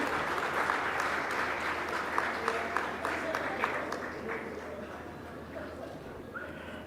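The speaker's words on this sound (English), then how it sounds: "A round of applause, ladies and gentlemen," A conference audience claps together for a panel in sustained applause that gradually thins out toward the end.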